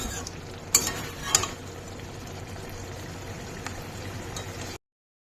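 Cumin seeds and dried chillies fry in a pan with a steady, quiet sizzle, broken by two sharp crackling pops early on and a few softer spits later.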